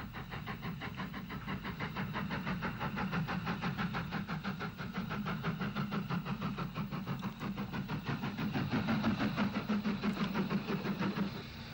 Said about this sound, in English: A Big D drifts lazily towards Strabane with a brake van in tow